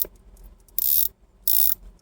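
Ratcheting clicks from the unidirectional rotating dive bezel of a Rolex Submariner 124060 no-date watch, heard as two short, bright, close bursts separated by quiet.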